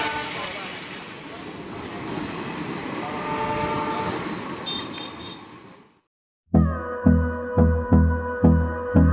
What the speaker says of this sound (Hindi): ट्रेन पीछे जा रही है।